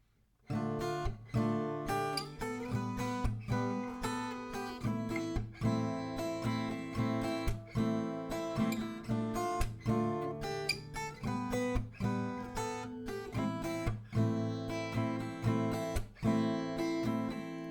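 An acoustic guitar is strummed in a steady down-up rhythm, chords ringing clearly and closely with no voices.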